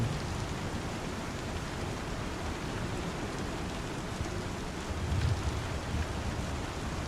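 Steady rain falls in a video game, a dense, even hiss of drops continuing throughout with a slight swell near the end and no voices.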